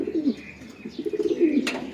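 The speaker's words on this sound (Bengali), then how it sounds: "এটা আমার এই জোড়া কবুতরটা" A loft of domestic pigeons, including a breeding pair sitting on eggs, gives low, throaty coos that repeat in soft rolling phrases close by, with a faint chirp near the end.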